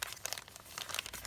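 Tracing paper layered over vintage sheet music in a stitched junk journal envelope crinkles close to the microphone in a quick series of crisp, papery rustles, with no talking.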